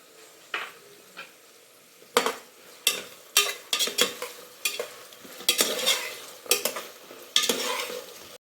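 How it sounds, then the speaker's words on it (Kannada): Ginger-garlic paste is stirred in a frying pan while making brinjal gojju, with a faint sizzle under irregular, close scraping strokes of a spoon against the pan that grow busier after the first couple of seconds. "ಈಗ ಒಂದು ಅರ್ಧ ಸ್ಪೂನ್ ಆಗೋಷ್ಟು ಶುಂಠಿ ಬೆಳ್ಳುಳ್ಳಿ ಪೇಸ್ಟ್ ಎತ್ತಿಟ್ಕೊಂಡಿದ್ದೀನಿ ಅದನ್ನು ಹಾಕ್ಕೊಂಬಿಡೋಣ"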